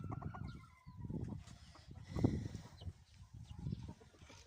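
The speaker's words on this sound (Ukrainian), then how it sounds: "Ось грибуться кури в траві." Chickens cluck in grass in a farmyard on a cool, showery day: a steady run of soft, low, close clucks and murmurs with one louder burst midway, and no talking.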